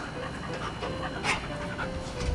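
Pedigree dog panting nearby in a steady, quick rhythm of short breaths, moderately loud and continuous, with faint household background and no clear talk over it.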